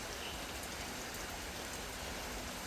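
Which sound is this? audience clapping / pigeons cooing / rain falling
rain falling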